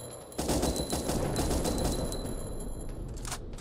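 Rapid automatic gunfire in the game Minecraft DayZ, a dense, continuous burst of shots lasting several seconds, loud and close, with no talking.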